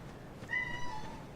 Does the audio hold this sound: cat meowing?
yes